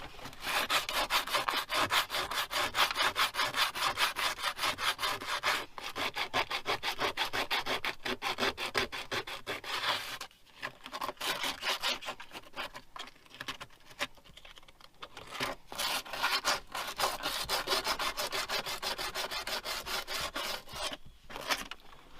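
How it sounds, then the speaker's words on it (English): Sandpaper scrubbing rust off a part from a Land Rover Discovery 300TDI during a clutch change, a loud, steady rasping of rapid back-and-forth strokes that runs almost without pause, easing briefly midway before picking up again. "Just rub all the rust away"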